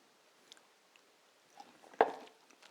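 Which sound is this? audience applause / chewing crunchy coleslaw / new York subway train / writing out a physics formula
chewing crunchy coleslaw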